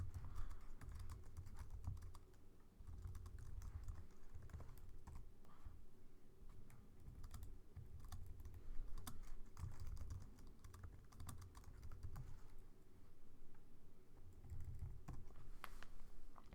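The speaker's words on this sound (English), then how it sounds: "Sorry, typing is not the best." Steady clicking of keys on a computer keyboard as someone types Java code, bursts of close keystrokes with brief pauses, no talking.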